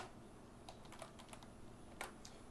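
Light, quick keystrokes on a computer keyboard as Python code is typed, a few scattered clicks and a small burst near the end, soft and close over a steady background hiss.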